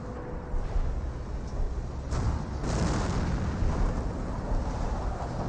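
A Wurfrahmen rocket barrage in Company of Heroes 1 sets off overlapping explosions that blend into a continuous rumbling roar of booms, dense and sustained.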